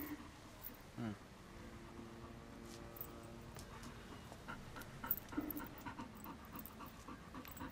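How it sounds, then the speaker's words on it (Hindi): An old dog pants softly in a quiet room, with quick, faint breaths that carry on steadily over several seconds. "कुत्ता है।"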